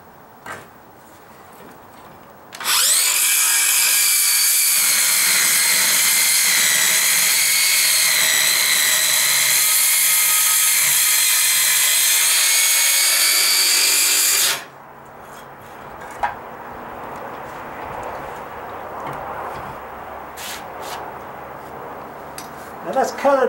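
A Sawzall reciprocating saw cuts into a rotten wooden deck step, a loud, close, high buzzing roar that runs steadily for about twelve seconds and then stops abruptly, leaving quiet handling noises behind.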